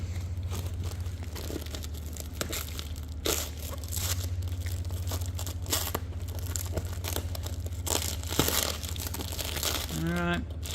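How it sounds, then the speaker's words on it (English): Weed mat transit wrapping crinkles and rustles steadily as packing tape is sliced through, close and continuous over a constant low hum. "wrap it in weed mat because it's excellent abrasion resistance, and so we don't get any damage during transit"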